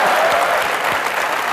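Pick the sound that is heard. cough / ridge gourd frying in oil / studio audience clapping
studio audience clapping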